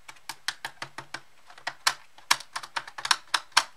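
Fingers tap a hard plastic Bontrager WaveCel helmet shell, a quick irregular series of sharp, close clicks and knocks with short gaps between bursts.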